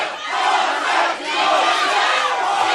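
Rival fan factions at an XFO MMA fight, a loud continuous roar of crowd chanting and shouting that fills the arena, steady throughout with a brief dip.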